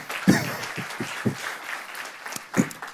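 A conference audience at a Java programming talk gives a short burst of applause, with scattered, uneven claps and a few sharper individual hits rather than a sustained ovation.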